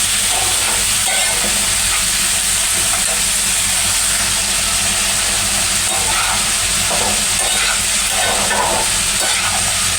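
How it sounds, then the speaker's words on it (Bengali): Okra and potatoes fry in a hot pan with turmeric, a loud continuous sizzle and hiss close by, with occasional stirring scrapes and no talk over it. "ভেন্ডি আলু ভাজা করবো, এই জন্য এখানে ভেন্ডিগুলো দিয়ে দিলাম।"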